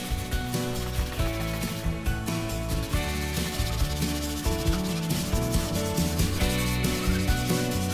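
Plywood rubbed by hand with 120-grit sandpaper after filler has dried, a steady close scratchy sanding in rhythmic back-and-forth strokes throughout.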